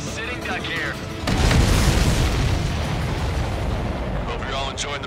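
A heavy rumbling explosion booms in the Ace Combat 7 flight combat game, a broad, dense roar that swells and lingers for several seconds, with radio voices talking before and after.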